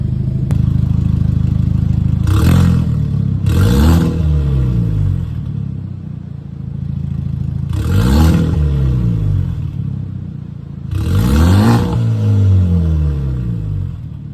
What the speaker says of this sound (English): So yeah, that's what my Genesis coupe sounds like.